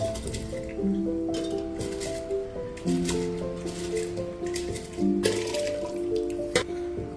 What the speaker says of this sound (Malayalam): അരമണിക്കൂറോളം കുതിർത്ത് വെച്ച ബസ്മതി റൈസ് ഇട്ട് കൊടുക്കാം